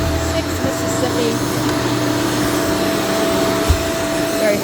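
A Shark vacuum cleaner runs close by with a loud, steady motor whine and airflow roar that holds constant throughout, with no talking over it.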